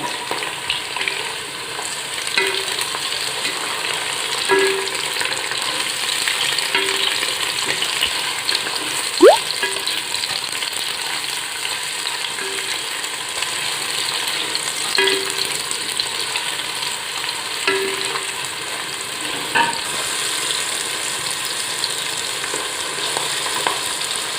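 Chopped tomatoes and capsicum fry in a pan for chicken kabsa, giving a steady close sizzle broken by occasional scrapes and clinks of a spoon stirring, with no voices.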